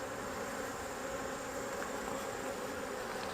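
Honeybees hum steadily in an opened hive during a mite check, a dense continuous buzz of many wings that stays close and even throughout, with no talking over it.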